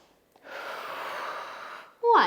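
One long, deep exhale is drawn out for about a second and a half during a barre class, breathy and close, followed by a short voiced sound at the end.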